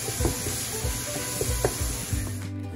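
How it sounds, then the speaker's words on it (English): Ground beef sautéing in a pan for chili, a steady close sizzle with intermittent scraping and stirring knocks throughout, ending abruptly with the hiss cutting out. "we're just going to wait for that to saute again here"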